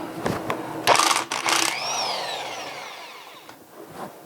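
A power tool spins 15 mm bolts off the old oil pump of a 6.2L diesel engine during a bottom-end teardown, with short, loud whirring bursts and clatter, then a rising whine that winds down.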